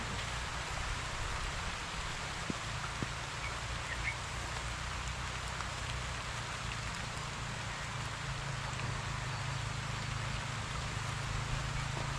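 Steady rain falls over an outdoor Philippine farm plot, a dense even hiss that holds for the whole stretch with no voices.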